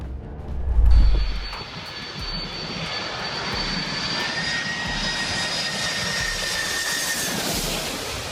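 A Luscombe 8E light aircraft's engine drones steadily during takeoff, a close continuous propeller-engine hum with a faint whining tone sweeping across it, following a brief low thump at the start.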